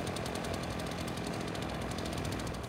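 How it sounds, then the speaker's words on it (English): A blower runs continuously at a backyard burn pit where leaves and a tree stump are being burned, a steady droning mechanical roar close by, with no talking. "The blower's going. That's to try to get some heat up underneath there"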